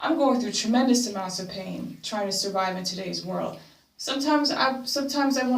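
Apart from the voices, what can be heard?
No everyday noise stands out behind the speech.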